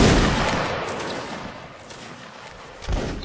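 A regiment's musket volley in Mount & Blade: Napoleonic Wars, a loud, dense burst of overlapping gunfire at the start that thins into a rolling crackle, with a second sharp report near the end.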